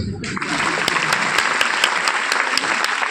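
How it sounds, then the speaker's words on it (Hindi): Loud, dense applause from a large seminar crowd in Punjab, steady clapping filling the whole stretch after a brief voice at the start. "ताली हो जाओ सब"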